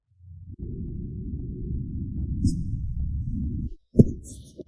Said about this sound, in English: That heartbeat at dawn.